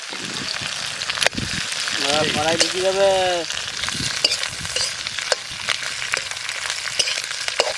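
Fish roe and fish heads sizzle and crackle loudly in hot oil, a steady frying hiss with occasional stirring clatter and a brief voice.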